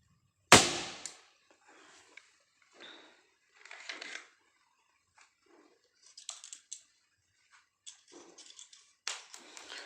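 Makarov MP-654K CO2 air pistol firing steel BBs, a sharp loud crack at the start followed by scattered softer clicks and mechanical handling noises, close and otherwise quiet.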